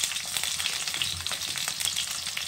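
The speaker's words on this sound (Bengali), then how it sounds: "পটল আর আলুটা একসঙ্গে আমি ভেজে নেব।" Pointed gourd and potatoes frying together in hot oil give a steady, dense sizzle that runs close and continuous, with no voices.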